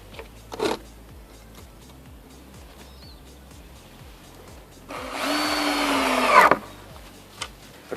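A screwdriver drives screws into vertical wooden boards while building a house and fitting lintels, giving one steady whirring burst of about a second and a half after a brief earlier knock, close and alone without talk.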